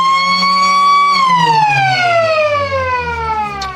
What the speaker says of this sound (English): Siren's probably just about to sound.